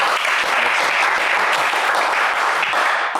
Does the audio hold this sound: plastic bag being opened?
no